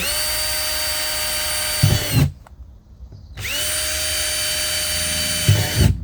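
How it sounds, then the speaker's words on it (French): A power drill bores holes for a large strawberry tower, two long loud whining runs with a short pause between them and a brief catch at the end of each. "on perce. Hop, on fait des trous."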